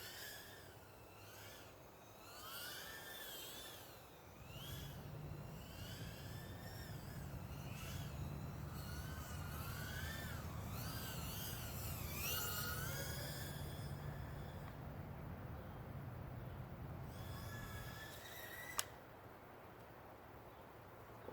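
A Sub250 NanoFly20 FPV drone running on a 1s battery is flown aggressively. Its motors give a thin whine that keeps swooping up and down in pitch, then ends with a sharp knock and fades away.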